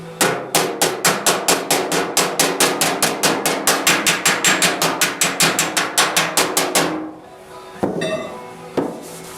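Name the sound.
hammer bumping metal body panel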